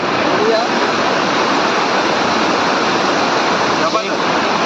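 Korlai waterfall pours with a dense, continuous roar, loud and close, a steady broadband rush of falling water that never lets up.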